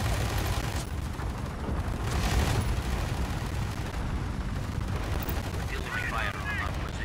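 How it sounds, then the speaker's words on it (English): Dense artillery and gunfire rumble continuously in Tom Clancy's EndWar, a Russia versus USA battle in Washington D.C., with repeated booming bursts layered over a constant roar of combat and faint radio chatter. "Artillery fire on our position."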